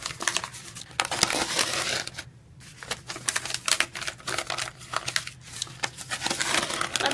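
Christmas paper is crumpled by hand several sheets at a time, producing close, dense crinkling bursts with short pauses between handfuls, no speech.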